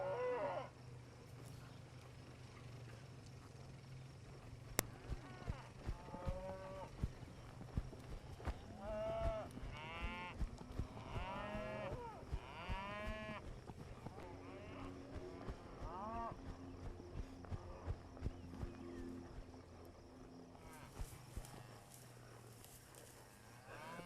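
Cattle moo repeatedly during handling with a horse and ATV outdoors, several drawn-out calls rising over a steady low rumble, with scattered hoof clatter and knocks throughout.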